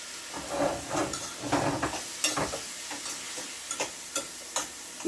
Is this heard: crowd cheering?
no